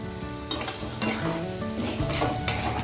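Bitter gourd bhaji with crushed peanuts gets stirred in a pan on the stove, a steady sizzle under repeated scraping and clinking of a spoon against metal, close and busy with no talk.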